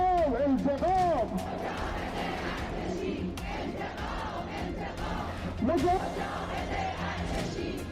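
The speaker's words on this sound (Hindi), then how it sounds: "ये कोई आम भीड़ नहीं है" A huge crowd at an Iranian street protest shouts and chants slogans in loud, ragged unison. The roar swells and falls and keeps going the whole time, close and dense.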